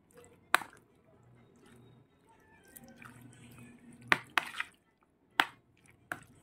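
Marinated pork being mixed with ground black pepper by hand, soft wet squishes and faint stirring, broken by several sharp louder clicks and slaps.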